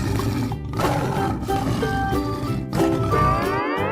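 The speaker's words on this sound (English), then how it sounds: "Tiger." A tiger gives a loud, close, rumbling roar with gravelly growling texture, sustained across several breaths with a brief pause before a final surge.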